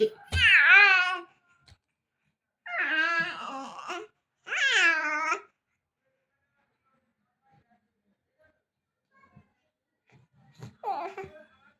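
A baby babbles and coos in sing-song bursts, three near phrases in quick succession, then a long quiet pause before a final short vocal burst, close and clear.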